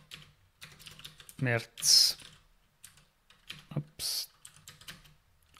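Keys clatter in short bursts on a computer keyboard while a German-speaking person types a search into git log, quiet taps under and between his speech.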